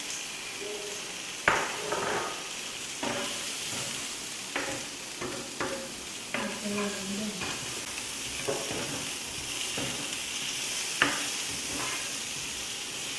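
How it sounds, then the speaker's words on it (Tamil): Chopped onion, tomato and green chilli frying in a pan for a spicy Indian chicken dish, a steady soft sizzle broken by repeated scraping stirs of a spoon, with no talking. "வெட்டி வச்சுருக்க வெங்காயம், தக்காளி, இந்த பச்சை மிளகாய் எல்லாத்தையும் நாங்கள் இதில் வைக்கணும்."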